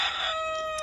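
A short burst of a fighting rooster crowing, loud and close, the call trailing off into a thin tone.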